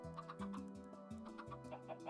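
Chickens in the video game Minecraft cluck repeatedly in a fast, overlapping series of short, pitched calls, close and fairly loud, filling the whole stretch without pauses.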